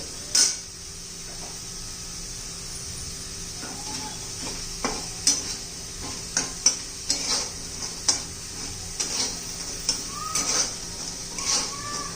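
Potatoes frying in a pan are stirred with irregular scraping and knocking strokes over a soft, steady sizzle, the clicks and scrapes spaced a second or so apart, with no voices.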